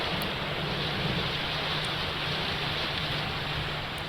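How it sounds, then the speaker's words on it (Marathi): Heavy rain pours down on Mumbai in a dense, unbroken hiss, steady and loud throughout with no pauses. "मुसळधार असा पाऊस हा मुंबईत कोसळतोय"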